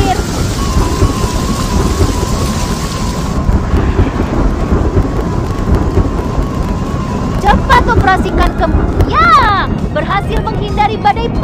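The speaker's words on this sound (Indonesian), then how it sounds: "Mungkin ada badai petir." Thunderstorm in a Baby Bus airplane game, with steady heavy rain and low rumbling thunder, then bright cartoon chimes and sound effects toward the end.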